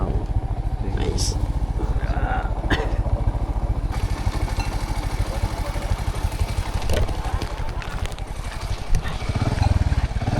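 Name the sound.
motorcycle engine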